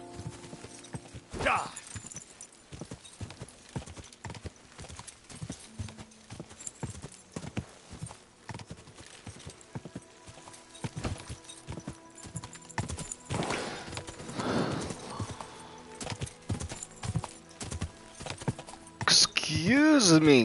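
Horse hooves clip-clop at a steady walking rhythm in the video game Kingdom Come: Deliverance 2, with a brief whinny and a voice talking intermittently over the hoofbeats.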